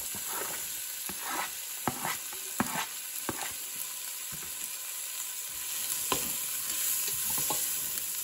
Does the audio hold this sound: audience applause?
no